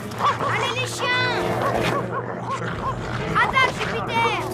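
Several dogs bark and yelp excitedly over a noisy, chaotic scene, with growls and loud overlapping cries, close and continuous.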